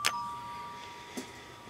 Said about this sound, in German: es hat jemand geklingelt